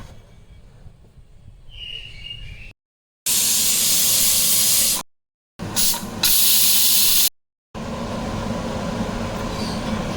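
A pressure cooker cooking Arabic bakra (dumba) mutton lets out loud, close steam whistles, three long forceful hissing bursts separated by short breaks.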